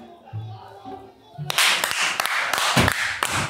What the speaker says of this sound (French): Ils sautent sur des matelas, ils s'applaudissent.